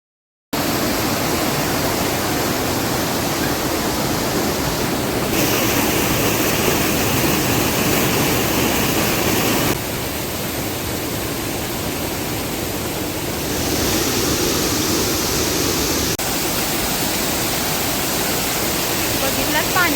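Rushing water at a waterfall near Kolhapur during rain roars loudly and continuously, a thick, steady wash of sound that shifts slightly in tone now and then.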